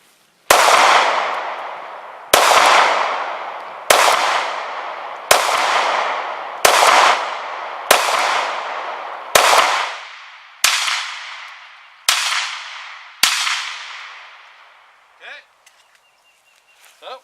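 Nine sharp, loud reports from a Glock 43X pistol firing 115 grain rounds at an outdoor range, spaced about one to two seconds apart, each ringing out and decaying before the next.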